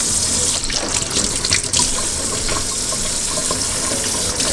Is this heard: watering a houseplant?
yes